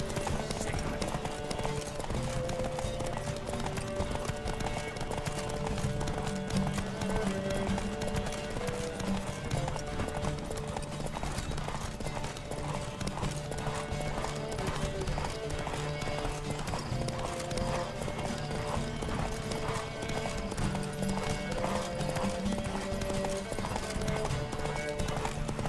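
Horse hooves gallop at speed in The Witcher 3, a steady rapid clip-clop under game music that holds at a constant level throughout with no pauses.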